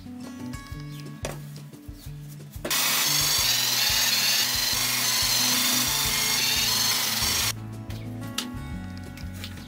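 A power drill bores a hole through wood clamped over scrap wood, a loud, steady whir of about five seconds that starts and stops abruptly, with quieter workshop handling sounds before and after.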